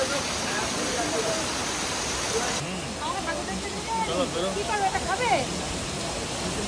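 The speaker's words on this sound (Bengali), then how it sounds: "মুষলধারে বৃষ্টি হচ্ছে" A heavy downpour roars as a steady, dense hiss of rain, fairly close and constant, while people talk briefly over it.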